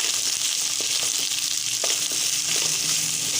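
Carrot, potato, capsicum, beans and green chilli fry together in a pan for veg pulao, giving a constant close sizzling hiss with faint stirring clicks and no voices.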